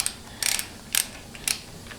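Ratchet and socket tightening bolts during final assembly of a Ford 6R140 transmission rebuild: three short, close bursts of rapid ratcheting clicks separated by brief pauses, with no talking.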